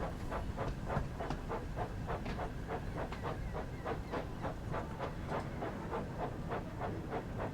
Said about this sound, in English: Still seems weird seeing Thomas in the Train Sim world